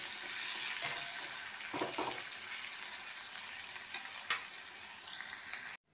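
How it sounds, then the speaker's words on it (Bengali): Two large onions, sliced very thin, frying in a pan for an egg curry: a close, steady sizzle with a few scraping stir sounds, then an abrupt cut to silence at the end. "আমার পেঁয়াজটা ভালো করে ভাজা হয়ে গেছে।"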